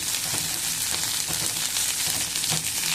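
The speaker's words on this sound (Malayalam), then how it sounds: "സവാള ചേർത്ത് നന്നായിട്ടൊന്ന് വഴറ്റിയെടുക്കണം." Onion and green chilies sauté in a pan for a dal-free sambar, a loud, dense sizzle with frequent crackles and light stirring pulses throughout.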